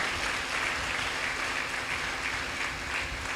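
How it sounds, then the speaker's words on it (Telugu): A church congregation claps together in steady, dense applause that holds at an even level throughout, with no talking over it. "మన చప్పట్ల ద్వారా సాతానుడు సిగ్గుపడాలి, దేవుడు గణపరచబడాలి"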